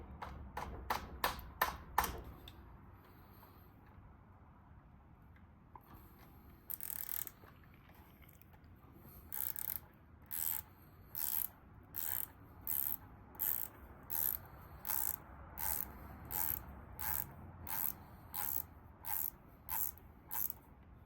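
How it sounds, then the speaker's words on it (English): A ratchet clicks rapidly in several bursts, then settles into a steady series of short, evenly spaced ratcheting strokes while a 5/16 bolt is removed from a Harley Twin Cam starter, sounding close and crisp. "pull this 5/16 bolt out of the starter"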